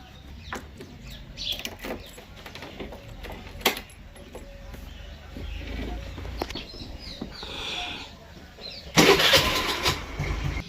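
Scraping handling noises, then a small Activa scooter engine, loaded with four gas cylinders, cranks and catches near the end, starting loudly up close.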